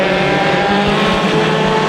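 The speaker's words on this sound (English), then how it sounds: "A very clean start to the mini stocks" Mini stock race cars running a heat race at Santa Maria Speedway, engines roaring together in a loud, steady, buzzing drone.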